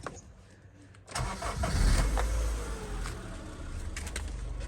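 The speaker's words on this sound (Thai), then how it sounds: "เครื่องสตาร์ทง่ายนะครับ" A 2002 Honda Civic ES with a manual gearbox cranks briefly and catches. Its engine then settles into a steady, fairly loud idle, with birds chirping faintly in the background.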